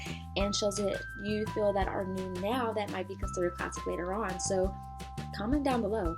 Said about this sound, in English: I apologize if you heard a dinging of the bell